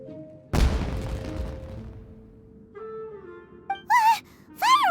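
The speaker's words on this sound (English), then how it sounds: "Was that an explosion? It sounded like fireworks." A single sudden boom of fireworks in the Genshin Impact video game, close and loud, then a long fading rumble, followed by soft game tones and brief vocal sounds.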